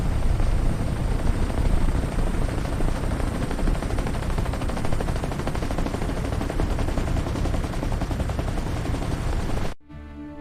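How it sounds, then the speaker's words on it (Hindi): An army helicopter arrives with a loud, continuous, fast rotor chop that fills the scene at close range, then cuts off abruptly just before the end. "आर्मी वालों का हेलीकॉप्टर है।"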